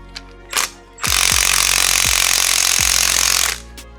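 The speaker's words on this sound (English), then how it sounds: "The bigger bolts on here normally need the bigger impact, so we'll take all the 10s out now." Impact wrench on VQ35DE engine bolts: a few brief taps, then one sustained loud rattling hammer burst of about two and a half seconds, close up, with no talking.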